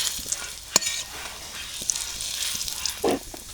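Cinnamon with green and black cardamom sizzles in hot oil alongside dried chilli, bay leaf and cumin for a country chicken curry, giving a steady crackling fry, with a sharp utensil clink and brief stirring bursts.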